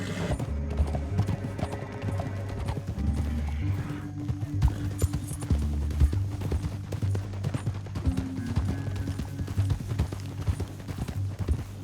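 Hooves of several horses clatter continuously in Red Dead Redemption 2, beneath a droning musical score, with an occasional whinny in the mix.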